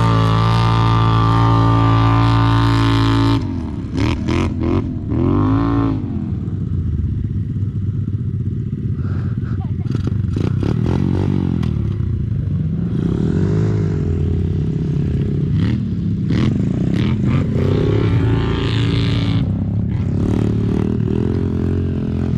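An X-Motos 125 motorcycle engine at a gravel pit rumbles loudly, cuts out with clattering, then starts on the electric starter and revs up and down repeatedly, close by.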